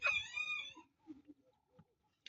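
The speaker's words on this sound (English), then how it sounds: "There's the boss chicken." A farmyard chicken, the flock's boss hen, gives a loud strident crowing call, then several quieter scattered clucks and soft noises trail off into near silence.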